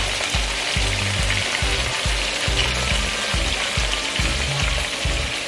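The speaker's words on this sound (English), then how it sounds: "The oxtail is frying" Oxtail sizzles and fries in a pot for a Jamaican dish, a steady hiss over regular low thumps as the meat is stirred. No one speaks.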